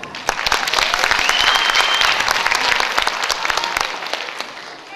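An audience applauds in a cinema hall after a school freshmen's ball show, steady dense clapping that stays loud throughout and tapers slightly at the end.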